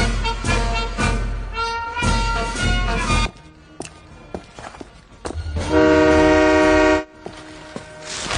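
Train passing close by with a loud, sustained horn blast near the end, preceded by heavy rumbling and clattering that drops away into quieter scattered sounds before the horn sounds.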